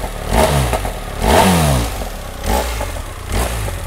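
A BMW R1300R boxer engine on its standard exhaust, heard close and loud, pulsing and revving in several rising throttle blips over a low rumbling idle.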